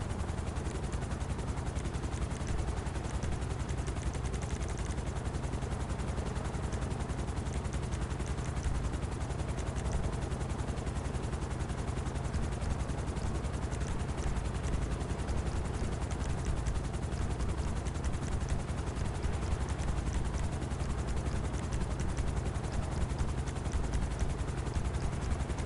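Helicopters in GTA Online keep up a steady, dense rotor drone for the whole stretch, with scattered gunfire mixed into the constant roar.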